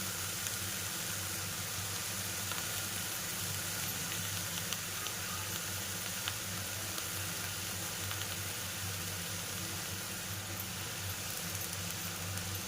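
Radish greens sizzle in hot oil under a lid in a covered pan, giving an even, continuous hiss that holds steady without a break.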